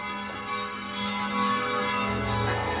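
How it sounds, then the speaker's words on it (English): The bells of the old Nikolai Church in Frankfurt am Main ring with sustained, layered tones that hang in the air, a few brighter strikes joining near the end. "it's the sound of the bells of the old Nikolai Church"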